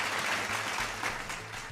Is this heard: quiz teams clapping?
yes